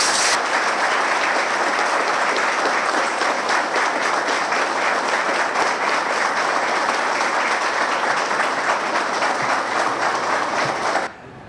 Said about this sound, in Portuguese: Eu acho que nós merecemos aí mais uma salva de palmas dos nossos amigos